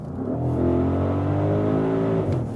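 A 2021 Audi SQ8 V8 petrol SUV engine revving in dynamic mode, a deep throaty rumble that climbs and falls over a couple of seconds, loud and close with no voices.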